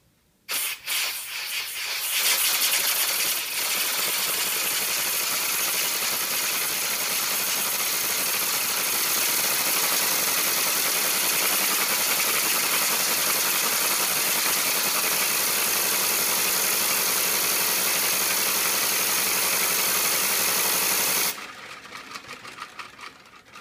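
A LEGO-built model turboprop engine runs steadily with its clutch engaged, giving a loud, continuous whirring and hissing drone that holds at an even level for about twenty seconds before cutting off abruptly.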